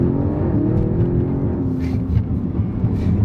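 An Audi RS6 Avant pulls away hard in first gear on a regular, non-sports exhaust, its engine a steady, loud, rumbling drone heard from inside the car and holding throughout.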